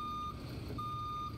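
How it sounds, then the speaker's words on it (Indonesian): A truck's reversing alarm in a video game sounds two steady, evenly spaced beeps over a low engine rumble. "Bunyi truk."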